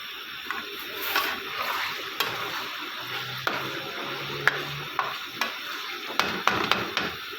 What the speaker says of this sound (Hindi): जी हमने ऑयल में हम चिकन को फ्राई करेंगे।